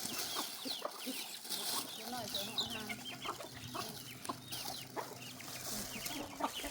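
Chickens cluck repeatedly around a rural Thai farmyard in the evening, a mix of short close calls and busier background poultry chatter with faint voices mixed in.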